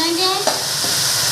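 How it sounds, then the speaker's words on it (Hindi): Potatoes frying in a hot pan give a steady, close sizzle with a faint scrape of stirring partway through, heard briefly and without talk. "अब इसमें हम डाल देंगे आलू। ये देखो इस तरह हम भून लेंगे"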